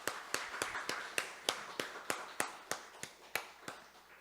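A church congregation at an Easter service claps in steady unison, about fourteen evenly spaced, moderately quiet claps keeping a firm rhythmic beat.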